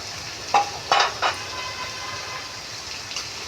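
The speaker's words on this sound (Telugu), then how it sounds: "స్పూన్ పెట్టి మళ్ళీ పైకి కిందకి కలిసేలాగా తిప్పుతున్నాను" A few quick metallic scrapes and clinks of a spoon stirring cabbage curry in a pan, over a faint sizzle.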